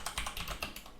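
Rapid computer keyboard typing, a quick burst of several close, crisp key clicks in an uneven rhythm, with no voice over it.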